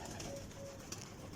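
Pigeons cooing on a rooftop where birds are kept and let out, a faint, steady low murmur running throughout with soft background noise.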